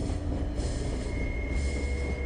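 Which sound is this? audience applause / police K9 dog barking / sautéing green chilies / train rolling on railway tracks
train rolling on railway tracks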